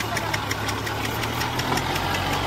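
A Kubota 4x4 tractor engine drives a rotavator in the field, a loud, steady, close knocking rumble that holds unbroken throughout with no talk over it.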